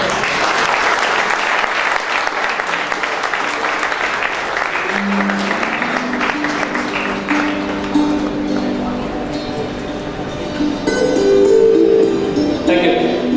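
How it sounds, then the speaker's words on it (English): An audience at an interactive session in Pune breaks into loud, sustained applause for a book translator, steady clapping throughout with tones and voices rising faintly beneath it toward the end. "Please give a huge round of applause for him."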